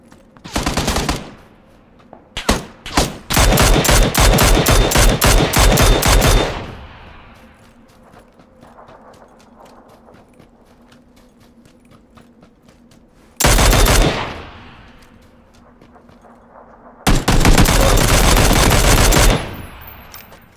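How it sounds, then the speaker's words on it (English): Bursts of rapid Mini 14 rifle fire in the PUBG video game, three long loud volleys of close sharp shots separated by quiet stretches with faint echoing tails. "here's a little sound clip of the Mini 14"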